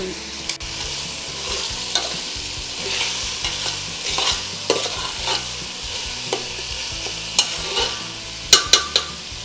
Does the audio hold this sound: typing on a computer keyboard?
no